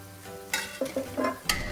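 Butter and olive oil sizzling together in a pan, a low steady frying hiss with a few brief clinks and stirring scrapes over about two seconds.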